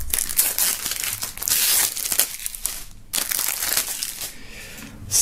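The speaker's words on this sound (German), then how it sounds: "Also, das Album auch noch aus der Folie schneiden." A music album is cut out of its plastic shrink wrap, and the film is peeled away, making continuous close crinkling and crackling with short tearing bursts and brief pauses.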